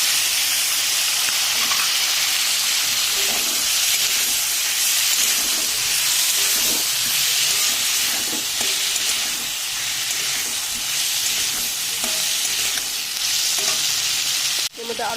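Ginger and cumin paste hitting hot oil, a loud, dense, continuous sizzle and hiss that holds steady near the pan, with faint scraping stirs and a sharp knock at the end.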